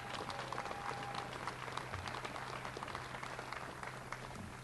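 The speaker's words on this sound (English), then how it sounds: "So big round of applause for those guys that did it." Faint, distant applause from an outdoor crowd at a rail trail dedication ceremony, scattered clapping under a low steady hum, with a few murmured voices in the background.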